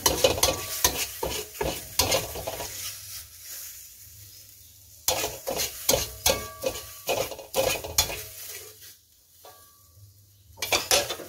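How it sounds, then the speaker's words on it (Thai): Chilies dry-roasting in a pan for an enoki mushroom nam prik, with bursts of rapid scraping and clattering stirs that alternate with quiet pauses. "ก็จะคั่วพริกต่อนะคะ"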